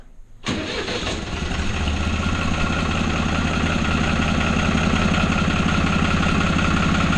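A tractor engine fitted with a hydraulically angled blade cranks and catches abruptly, then settles into a steady, loud, close idle with a constant low rumble that continues to the end.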